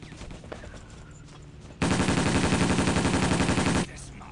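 Machine gun in Battlefield 1942 firing one sustained rapid burst of about two seconds, loud and close, after a quieter stretch of background game noise.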